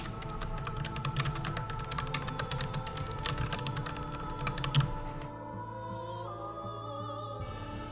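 Rapid clicking taps on a computer keyboard, close and fairly quiet, steady for about five seconds before fading into a low background hum.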